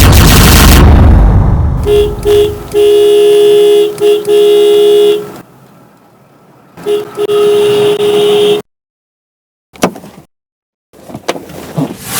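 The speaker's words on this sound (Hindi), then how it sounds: "इतनी देर से मैं हॉर्न बजा रहा हूं मैं" Car horn honking loudly and close in long sustained blasts, separated by gaps and followed by a few thuds and clatter near the end.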